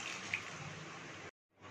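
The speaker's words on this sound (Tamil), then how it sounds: "தண்ணி கொஞ்சம் தேவையான அளவுக்கு ஊற்றிக்கலாம்" Water pours steadily into soya curry paste for just over a second, then cuts off abruptly before a faint return of sound.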